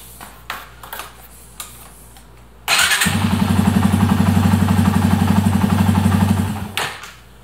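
A 2002 Yamaha XT225 motorcycle with rejetted carburetion and an aftermarket air filter cranks and fires up, settling into a loud, close, steady single-cylinder idle for several seconds before cutting off, preceded by a few handling thumps.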